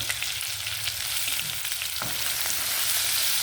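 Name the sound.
tomatoes frying in pan for chicken curry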